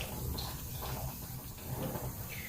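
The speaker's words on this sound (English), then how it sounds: "Make sure to keep the faucet running" A faucet runs during hand washing, a steady, moderate stream of water with soft splashing shifts as hands rub beneath it.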